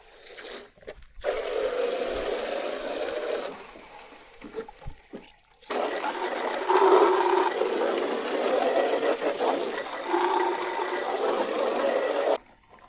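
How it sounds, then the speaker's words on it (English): Water rinsing roof sand out of a house gutter and down the downspout, a steady splashing rush that runs in two long bursts with brief pauses between, close and fairly loud. "We're going to go ahead and rinse it down the downspout."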